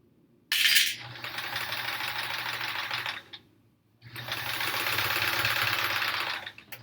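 Sewing machine stitching rows of a Triangle Tango quilt, running in two long steady bursts with a short pause between, loud and close with a constant rapid needle chatter and no talking.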